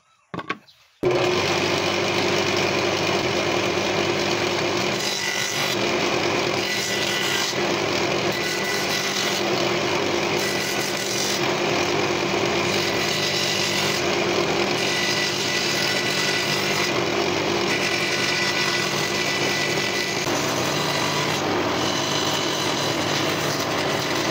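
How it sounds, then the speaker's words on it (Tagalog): A table saw cuts a wooden circle in a workshop, its steady motor whine and blade buzz running continuously and loud for over twenty seconds, with slight dips in intensity as the wood is fed. "kaya sa table saw muna natin isi-circle ito"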